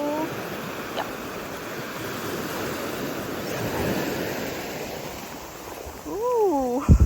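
Ocean surf washes steadily onto the shore at Kannur under wind noise, and a voice cuts in near the end.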